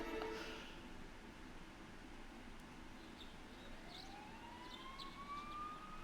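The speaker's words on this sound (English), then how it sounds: "You can hear sirens in the distance." Faint sirens drift in from the distance in the video game Persona 4 Golden, a thin rising wail emerging over a low ambient hum, with no voices heard.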